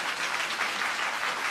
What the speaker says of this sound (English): Okay, no more clapping, you guys.